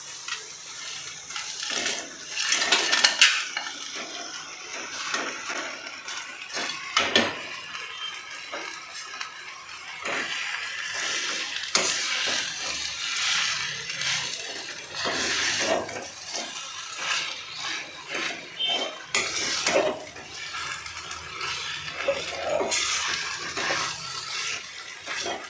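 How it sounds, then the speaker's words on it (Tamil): Chilli parotta is stirred and tossed in a pan, giving repeated bursts of scraping and sizzling with short pauses between strokes and no talking. "இப்போது இந்த ஸ்டேஜில் வந்து நம்ம பரோட்டாஸை வந்து ஆட் பண்ணிக்கலாம்."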